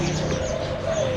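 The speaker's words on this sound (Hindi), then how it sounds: "ये जावा के पट्ठे हैं, ये बहुत प्यारे पट्ठे हैं, अच्छे ब्लड लाइन के हैं।" Young Java sparrows call at a busy bird market, with a steady chorus of chirps and coos close by over constant background noise.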